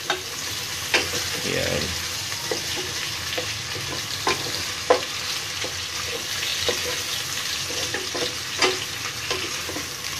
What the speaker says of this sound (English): So, nilagay ko na yung pork. Ayan. So, imimix lang, haluin lang natin.